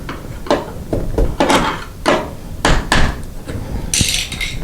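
Sharp metallic-wooden taps knock a hinge pin out of an interior door hinge, a dozen or so irregular strikes close by, some heavier than others, ending in a brighter clink near the end.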